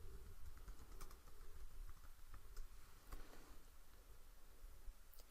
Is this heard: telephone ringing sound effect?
no